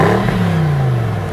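A 2017 Bentley Continental GT V8 S with a sport exhaust, its engine giving a loud, close rev that rises and then winds down in a falling drone over about a second, with no voices.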